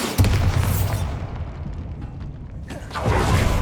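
A Bombarda spell going off in Hogwarts Legacy: a loud, deep booming blast that rumbles and fades over about two seconds, then a second heavy burst of rumble near the end.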